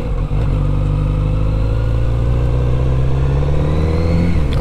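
Kawasaki Z900RS retro motorcycle engine revving and accelerating, a loud steady close-up drone that climbs in pitch over several seconds with no talking.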